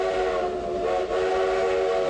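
A passenger train rolls steadily along the rails in California, a continuous loud rumble layered with sustained whistle-like tones, close and unbroken with no talking.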